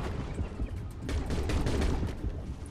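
Underwater gunfire aimed at a hammerhead shark in the game Depth, a dense burst of rapid shots that swells in the middle and holds fairly loud before easing off.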